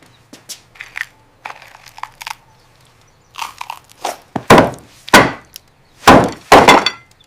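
Butter cookies being crunched near and loud, with sharp crackling bites that grow heavier and closer together toward the end.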